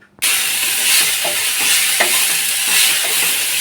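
Vegetables for Bengali dudh shukto fry in a pan, a sudden loud sizzle starting after a short silence and holding steady, with occasional scrape and stir clicks and no talking.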